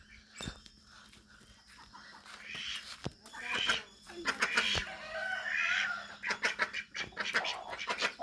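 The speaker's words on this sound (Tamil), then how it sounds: "இங்கே கோழி குஞ்செல்லாம் இருக்குது. இதில் ஒரு 30 இருக்கும்." Chickens cluck and chicks cheep close by, irregular bursts of calls overlapping, with a few sharp clicks in between.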